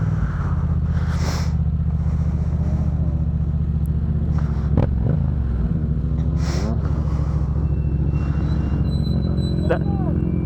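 A custom car's engine idles close by with a deep, steady rumbling drone that lasts throughout, and people talk over it.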